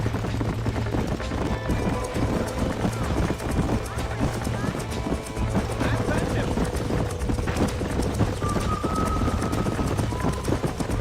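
Horse hooves clip-clop steadily while broncos are broken on a ranch in Red Dead Redemption, a constant trotting patter mixed with game ambience, a low hum and voices talking over it.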